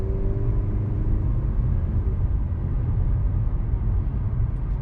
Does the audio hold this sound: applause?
no